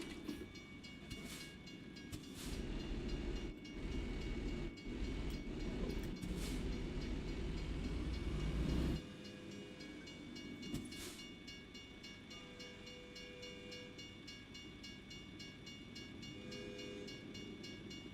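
A freight train with tankers and auto racks passes in American Truck Simulator, its steady rumble and clickety-clack rolling on for several seconds before dropping away to a quieter hum.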